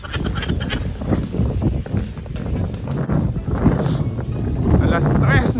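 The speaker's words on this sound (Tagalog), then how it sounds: "Lakas ang hangin" Strong wind buffeting the microphone in a steady, loud roar on a tilapia fishing trip, with a voice talking underneath and outdoor water noise.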